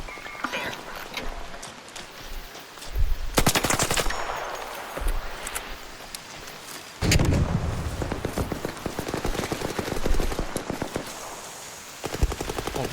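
Rapid gunfire from the video game ARC Raiders, with loud bursts around three and seven seconds and sustained shooting to the end, mixed with other game noise and no clear talk.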